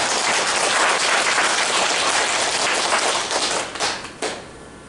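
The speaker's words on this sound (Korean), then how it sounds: "동의하시면 박수를 한번 보내줍니다." A congregation at a Korean sermon claps loudly and densely for about four seconds, then the applause thins into a few scattered claps and fades out.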